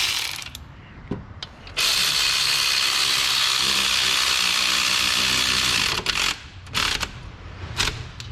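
Ratchet tightening 15mm alternator bolts on a Dodge Dakota, a close rapid clicking run lasting several seconds, with short separate bursts of clicks before and after.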